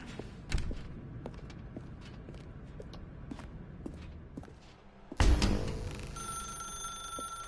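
A telephone rings in The Stanley Parable video game, a bright electronic tone that starts abruptly and sustains after a series of soft footsteps and thumps.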